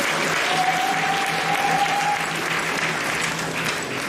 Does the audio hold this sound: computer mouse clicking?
no